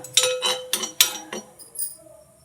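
A spoon stirring coffee powder being dry roasted in an iron pan: a few sharp metallic clinks and scrapes in quick succession, close and fading toward the end.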